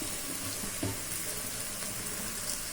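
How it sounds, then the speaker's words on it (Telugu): Ridge gourd pieces tipped into hot oil in a pan for a curry, giving a soft, steady sizzle and hiss that runs the whole time with no voices. "డైరెక్ట్గా బీరకాయ ముక్కలను అయితే వేసేద్దాం."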